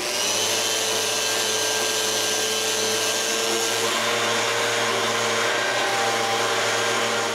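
Power sanding of wooden cabinet doors for a cottage pantry, a constant close mechanical hum with a grainy hiss that barely changes over seven seconds, with no talking.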